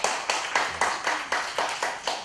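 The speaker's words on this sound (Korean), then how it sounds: "박수." Small group in a coaching class clapping in a steady rhythm, about nine distinct claps spaced evenly, close and moderately loud with no talk over them.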